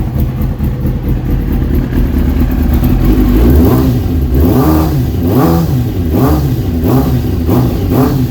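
A 2001 Kawasaki Ninja ZX6R engine just after a cold start, running close and loud, first idling roughly, then rising into a series of repeated throttle revs that climb and fall about once a second.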